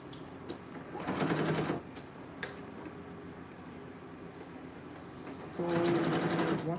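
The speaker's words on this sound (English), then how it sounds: "So I'm gonna turn it over, and I'm gonna be running a top stitch on this." A sewing machine runs a top stitch on a dress in two short bursts of rapid mechanical whirring, close and clear, separated by quieter room sound and small clicks.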